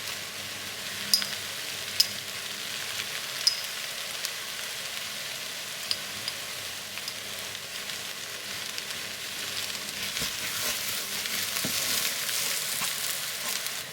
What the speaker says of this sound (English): Fry those spices off, bring out the flavour before adding the tomatoes.